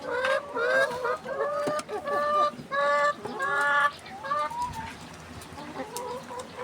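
Egg-laying layer hens cluck and cackle close by in overlapping bursts, then settle into softer background clucking.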